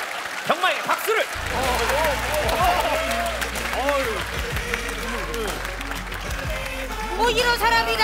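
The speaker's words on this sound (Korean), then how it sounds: "병마에게 박수를!" Studio audience clapping during a Comedy Big League sketch, a broad wash of applause carrying on under loud, shouting comedic voices that dominate throughout.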